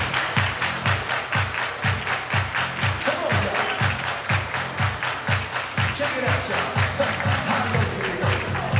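Wedding guests on a dance floor clap in unison to a pounding dance track, sharp rhythmic claps landing on the beat again and again for several seconds, with music and crowd noise underneath.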